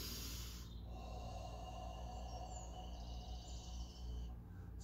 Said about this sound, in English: On the out breath, you want to restrict your breathing a little bit in the throat. So not a quick exhale, but like a controlled sigh.